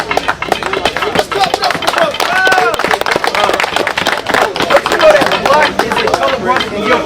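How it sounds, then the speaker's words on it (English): A street crowd near the White House claps in a loose, rhythmic pattern, the sharp claps running under loud, continuous talking and shouting from people close by. "Let's clap it up for the brother."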